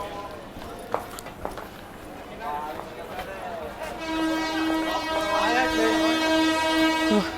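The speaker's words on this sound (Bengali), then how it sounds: "ওই পাশ থেকে কোনো একটা সুপারফাস্ট ট্রেন ওভারটেক করে যাচ্ছে সাঁতরাগাছি হাওড়ার দিকে" A superfast train passes on the Kharagpur–Digha line near a local train platform, its sustained rumble and a long horn-like tone building over several seconds, with people talking nearby throughout.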